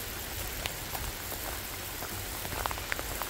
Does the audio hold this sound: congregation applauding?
no